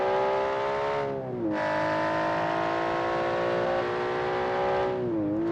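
A car engine in the BeamNG driving game holds a loud, steady high-revving whine, dropping briefly twice as gears shift before climbing back up, with no talking over it.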